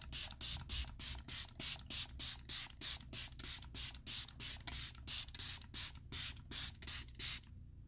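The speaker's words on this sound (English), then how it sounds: "Setting mist, not powder." LYS setting mist sprays in a rapid, even series of about twenty short hissing pumps, close and crisp, then stops.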